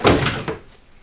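A cupboard door in a 2020 Jayco Pinnacle 32RLTS fifth-wheel RV swings and shuts with a few quick close thunks and knocks, fading into quiet room tone.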